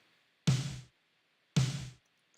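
Two dry snare drum hits, evenly spaced and unprocessed, each with a short bright rattle decaying quickly into near silence.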